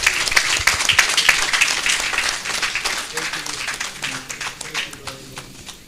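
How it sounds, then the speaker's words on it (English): Audience applause fills a general meeting hall after a speech: dense, sustained clapping from a sizable crowd that gradually thins and fades toward the end. "Please give him another round of applause"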